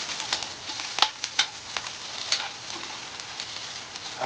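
Chili peppers going into a hot pan with ginger and lemongrass, a steady frying sizzle with a few sharp crackling pops over it, close and fairly loud.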